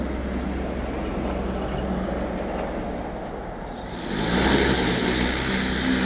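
A 30-liter MX35 agricultural spraying drone with a full tank lifts off. Its steady rotor whir holds, then rises and grows louder as it climbs near the listener, with no talking.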